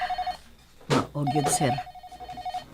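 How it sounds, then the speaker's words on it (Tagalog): A telephone rings in repeated short electronic trills. A voice briefly talks over the ringing before it resumes. "Makabati lang kag bagting sa telepono."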